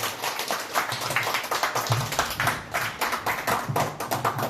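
Crowd applause, a dense steady patter of many hands clapping throughout, heard at a moderate distance.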